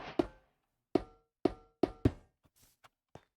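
Iron blocks are placed in the video game Minecraft with five sharp, metallic-edged thunks at uneven intervals, loud and close, followed by a few fainter taps, with no talking.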